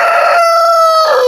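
A rooster crows once at close range in a village at morning, a loud sustained call that holds its pitch and drops slightly at the end, alone without talk.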